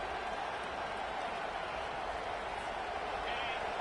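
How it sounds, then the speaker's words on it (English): A stadium crowd roars at an Ohio State vs Oregon college football game, a dense, steady wall of cheering noise that holds at full volume for the whole stretch without a break. "The roar of the crowd trying to fuel this defense to keep them pinned in their own end."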